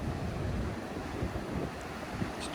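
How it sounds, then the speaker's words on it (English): Water rushing over a river weir with the level high near a viewing platform, a steady broadband roar that stays loud and continuous, with no voices. "So the noise of the weir as well"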